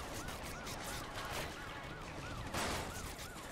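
Enemy gunfire in the video game Crackdown crackles steadily in a dense, continuous fusillade, with repeated rapid shots and a louder burst near the end.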